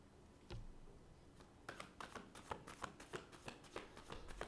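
A deck of cards is shuffled, with a single riffle followed by a quick run of crisp flicking bursts, close and fairly quiet.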